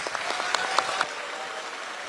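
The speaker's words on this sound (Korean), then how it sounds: "김승원 경기도당 위원장의 발언을 큰 박수로 청하겠습니다." Applause at a Democratic Party Gyeonggi provincial meeting, a short burst of scattered clapping from a crowd that peaks over the first second and then thins into a low room murmur.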